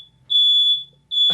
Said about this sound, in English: my wife set off the smoke alarm.